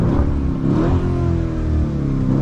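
A car engine revs loudly and steadily up close on a New York street, with a continuous throaty roar that rises and falls slightly.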